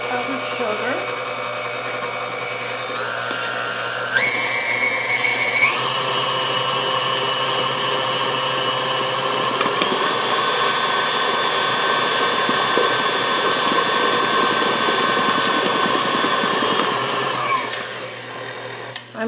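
An electric mixer beats powdered sugar for a carrot cake, whirring continuously and loudly at close range, stepping up in speed partway through before winding down near the end.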